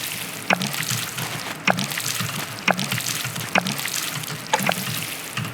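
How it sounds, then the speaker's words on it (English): Watering carrot seeds in the Unity Happy Harvest 2D farming game, heard as a steady trickling, pouring water sound with a soft splash-like tick repeating about once a second, close and moderately loud, with no talk. "Then you water the area."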